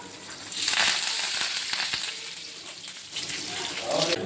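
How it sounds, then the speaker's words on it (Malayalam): Large prawns fry in a pan over a low flame, making a continuous crackling sizzle that swells and eases slightly, with a voice briefly heard alongside. "ലോ ഫ്ലെയിമിൽ വെച്ച് ഫ്രൈ ചെയ്തെടുക്കുക"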